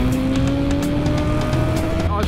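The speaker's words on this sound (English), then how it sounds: "Oh, backfire! That's it. Listen to this." An Aprilia 660 motorcycle's engine whines up in pitch while its exhaust crackles with a quick series of backfire pops, heard close over a person talking.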